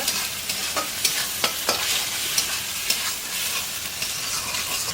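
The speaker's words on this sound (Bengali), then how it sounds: "দেখুন এবার পেঁয়াজ আলু টমেটো সব ঝুরঝুর করে ভাজা হয়ে গেছে" Chopped potato, onion and tomato sizzle and fry in a pan for village-style noodles, a bright continuous hiss broken by the scrape and tap of a stirring spatula.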